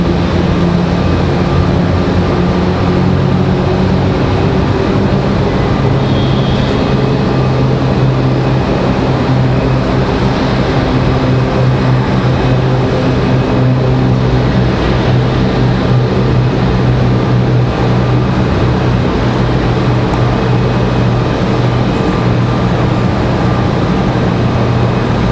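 An Endeavor airliner arriving from JFK lands at Raleigh-Durham International Airport, heard as a steady, loud, unbroken jet and wind roar that holds for the whole stretch without voices.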